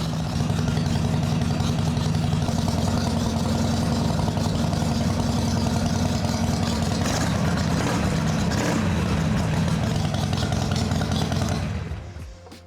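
Harley Davidson Sportster motorcycle engine running after a throttle cable replacement, a steady close rumbling idle with a throbbing low drone that continues evenly, then cuts off near the end.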